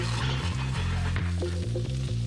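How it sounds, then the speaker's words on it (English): Water at a rolling boil in a pot with couscous, a steady bubbling hiss beneath a loud, low backing music track, continuous for a couple of seconds. "Four minutes in, water is boiling."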